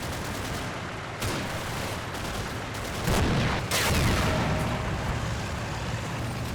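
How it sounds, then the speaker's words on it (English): A T-34 tank's gunfire in the wargame Combat Mission Red Thunder sounds as loud, booming shots over a continuous rumbling battle background. A sharp report comes around the one-second mark and heavier blasts follow past three seconds. "One of the T-34s of 2nd Platoon over on the left flank sees a shot."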